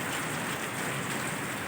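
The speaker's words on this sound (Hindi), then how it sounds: "आज अच्छी खासी बारिश आ गई" Heavy rain falling outside, a steady dense hiss of drops pattering on surfaces, continuous and close with no pauses.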